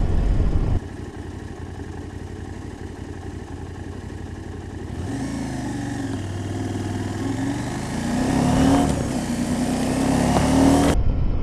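KTM 790 Adventure motorcycle fitted with an SW Motech centre stand, ridden down bumpy lanes: a steady engine drone and road rumble that rises and swells midway, with a rising engine note near the end, no talking.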